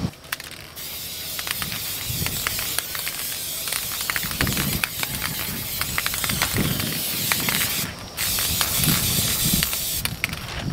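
An aerosol can sprays a final coat of paint in bursts, a loud hissing spray with rattling and crackling handling noises, briefly pausing before resuming close by.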